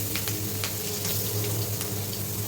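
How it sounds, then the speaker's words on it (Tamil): Ground paste of green chilli, ginger and coriander frying in hot oil with mustard seeds, dal and dried red chillies, a steady close sizzle with scattered crackling pops and no talk. "இப்போ இந்த அரைச்சதை இதில் போட்டுக்கலாம்."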